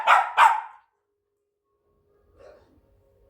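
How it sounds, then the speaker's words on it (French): Two quick, loud barks from a house dog called Nounou ring out close by indoors, followed by near silence with only a faint, brief murmur later. "On l'entend pas souvent aboyer."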